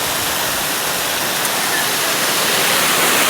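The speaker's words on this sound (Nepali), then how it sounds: "झर्ना" A mountain waterfall on a stream roars as a dense, steady wash of white noise, close and loud throughout with no break.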